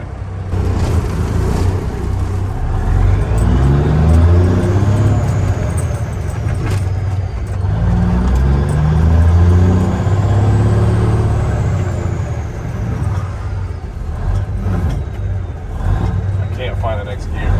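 Diesel engine of a 1985 Peterbilt 362 cabover truck on the road, a loud, steady low rumble that rises and falls in pitch as the gears are shifted, with a voice talking over it.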